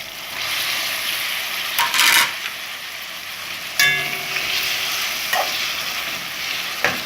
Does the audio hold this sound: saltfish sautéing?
yes